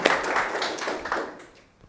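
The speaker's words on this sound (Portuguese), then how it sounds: "palmas pro Marcelo" A seminar audience at a personal finance and investing talk applauds a speaker; a short burst of scattered clapping from a small crowd, moderately loud at first, then thinning and fading out within two seconds.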